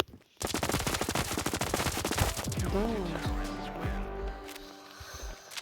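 Rapid bursts of automatic gunfire from a video game rattle in a dense stream, then give way to scattered single shots and electronic effects.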